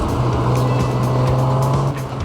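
A Barra-swapped Ford EL Falcon drift car drives on track, its engine holding a loud, steady droning tone with tire noise before easing off near the end.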